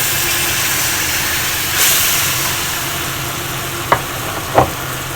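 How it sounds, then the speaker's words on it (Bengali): Lentil paste fries in a wok with turmeric, giving a steady loud sizzle. Two short sharp scrapes or knocks near the end sound like a spatula against the pan. No voices are heard. "হলুদ দেওয়ার পর এর মধ্যেই ডাল পেস্টটা দিয়ে দেবো"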